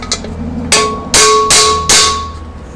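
Hammer striking a punch to drive a bush into a Holden Commodore Trimatic TH180 automatic transmission, four sharp ringing metallic blows, close and loud, the first lighter and the rest heavier and evenly spaced.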